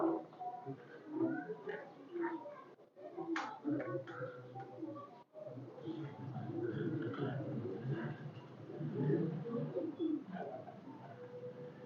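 Pure high flyer pigeons, large-bodied but light, coo in soft, repeated low murmurs at close range, broken by a couple of brief sharper chirps and a short gap, while faint background voices come and go.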